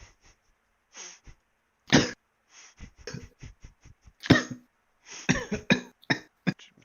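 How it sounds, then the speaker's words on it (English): Someone coughs repeatedly in short irregular bursts, several harsh coughs and throat clearings close to the microphone, with quiet pauses between them. "What you coughing on over there"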